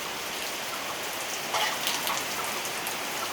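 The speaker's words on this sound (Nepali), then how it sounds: "पानी परेको है दरररर" Steady rain falls during the rainy season at Bhamari, a dense continuous patter of drops on surfaces with slightly louder splashes partway through, no talking.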